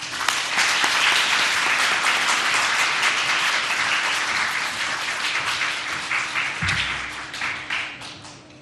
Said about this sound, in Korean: 나오실 때 사랑합니다, 존경합니다 박수로 맞이하겠습니다.